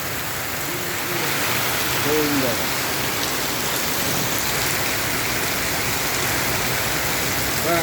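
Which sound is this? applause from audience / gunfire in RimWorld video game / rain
rain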